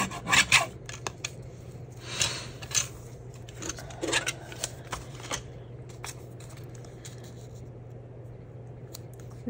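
Scissors snip through paper for collage strips in a series of short, crisp cuts and rasps, close and fairly quiet, with a low steady hum underneath.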